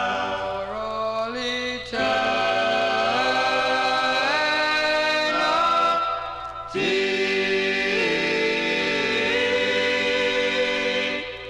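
Vocal harmony music with sustained, layered singing over a low backing, playing continuously with brief dips between phrases.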